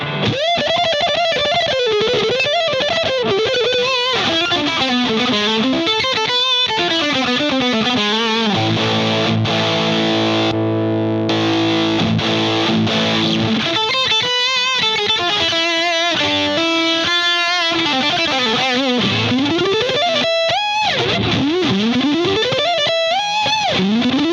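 An electric guitar plays through a clone of the DOD 250 Grey Spec overdrive pedal, gritty distorted riffs and bends with a sustained chord section in the middle, loud and continuous.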